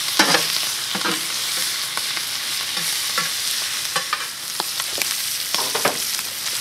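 Shrimp and chorizo sizzle loudly in a hot, smoky pan, a constant close hiss broken by repeated scraping stirs and clatters of a utensil, with no talking.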